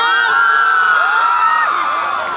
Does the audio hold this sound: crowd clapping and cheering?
yes